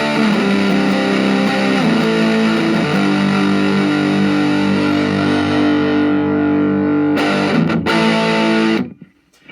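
Electric guitar played through a Boss MD-2 Mega Distortion pedal with the distortion turned fully up, loud sustained fuzzy chords ringing continuously before cutting off abruptly at the end.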